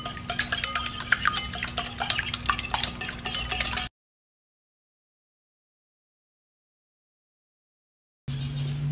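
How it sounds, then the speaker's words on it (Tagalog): Two large eggs are beaten in a bowl, a utensil clicking rapidly and rhythmically against the sides for a few seconds, then a long silence before a brief return of softer kitchen sound. "Batihin natin yung ating itlog."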